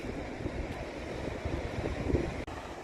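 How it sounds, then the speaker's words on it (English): Ocean waves break against rocks along the coast at Fort Bragg, Mendocino County, California, a distant steady roar of surf mixed with wind buffeting the microphone. "Look at the waves out there just crashing onto those rocks"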